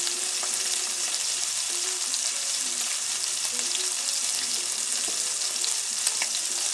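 Small pieces of hot Italian sausage fry in a pan with a constant soft, hissing sizzle and faint occasional clinks, heard up close with no talk over it.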